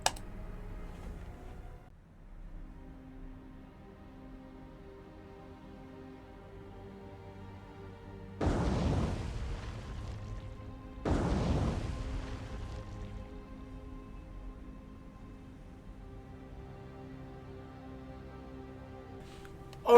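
Torpedo spread launched from a Japanese warship in the naval game War on the Sea: two short, loud broadband whooshing bursts a few seconds apart rise over a low, steady engine hum, then fade back to the drone.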